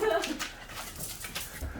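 A dog that has run out at a seaside gwamegi (dried fish) shop gives a brief, soft whimper close by, with faint yips, against background noise.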